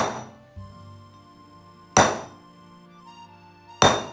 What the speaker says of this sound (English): center punch all of these, and then I can then drill holes in it to suit whatever I want